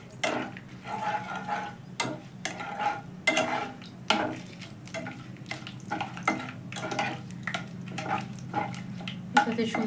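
Bay leaf, cinnamon and cardamom fry in hot oil, giving a steady close sizzle broken by repeated scraping stir strokes and light clinks of a utensil against the pan.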